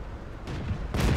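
Tank cannon fire in World of Tanks, with blasts from a T29 tier 7 heavy tank battle: two deep, booming shots about half a second apart, the second louder and heavier.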